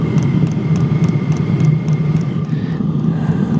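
A portable diesel heater runs beside a tent with a loud, steady droning exhaust roar and an even low hum, close and continuous with no pauses.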